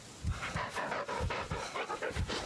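Bullet, the dog in Blair Witch, pants in quick, steady rhythmic breaths, close and fairly loud, with no voices over it.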